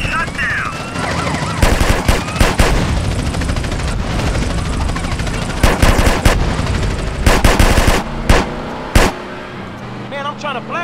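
Drive-by gunfire in the video game GTA San Andreas, fired from a BMW M5 F10 car mod, rapid loud machine-gun bursts over engine roar and a helicopter drone, with voices shouting between the bursts.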